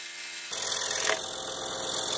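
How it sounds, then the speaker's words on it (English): A scroll saw cuts freehand through wood. The steady buzzing drone starts suddenly after half a second and runs close and even to the end. "Doing a little freehand scrolling just to clean them up."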